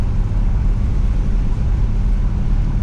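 Mopar big block car engine pulling steadily while driving, a loud continuous low rumble with no speech, the drone holding even as revs climb.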